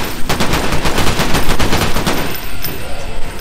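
Loud, continuous automatic AK rifle fire in a VR zombie game, a rapid dense rattle of shots filling the whole stretch at close range, with no speech.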